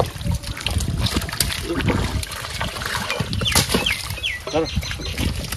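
Water gushes and trickles from a drainage pipe while a small backyard pond is being drained, a continuous splashing flow alongside nearby voices and the occasional cluck of chickens.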